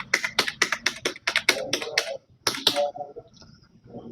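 Close, crisp keystrokes on a computer keyboard at a cyber cafe, tapped in fast bursts of rapid clicks, a short pause, then a few slower final taps with no talking.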